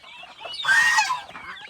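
Poultry at feeding time, with hen turkeys and young chicks, give a loud, close, squawking cluck that rises and then trails off into softer calls.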